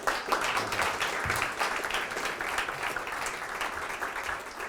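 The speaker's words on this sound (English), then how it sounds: "Round of applause" An audience gives a round of applause at a financial literacy seminar, a moderate, steady patter of many hands clapping that starts strong and gradually tapers off.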